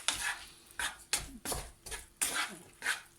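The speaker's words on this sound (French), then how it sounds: "je vais mélanger comme ça, ou là avec une cuillère en bois" Mini taco filling stirred in a pan with a wooden spoon, about seven distinct scraping sweeps in a quick, uneven rhythm, close and moderately loud, with faint sizzling underneath.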